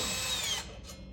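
A power drill with a screwdriver bit removes the metal band on an RV water heater: a short, close, high whirring burst winds down after about half a second, and a brief fainter spin follows.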